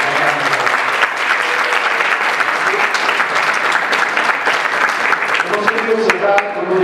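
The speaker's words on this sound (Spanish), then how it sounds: "vamos a darles un nuevo aplauso," Sustained audience applause at an engineering-for-architects conference in a hall, a dense steady clapping from a large crowd that holds at full strength throughout.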